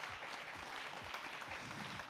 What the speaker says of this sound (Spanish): Un aplauso al psiquiatra.